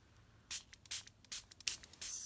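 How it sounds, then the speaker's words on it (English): A spray bottle spritzes water onto art pigments in about six short, hissing bursts of uneven length, close and fairly quiet, with no voice. "spritz this up"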